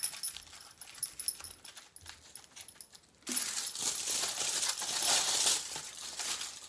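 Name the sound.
aluminium foil being scrunched into a bowl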